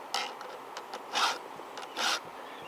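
A round 5/32 file sharpens chainsaw chain teeth in separate coarse rasping strokes, close and fairly quiet, with about three stronger pushes among lighter scrapes.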